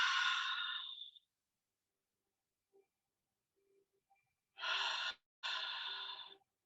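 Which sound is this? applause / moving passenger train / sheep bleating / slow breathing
slow breathing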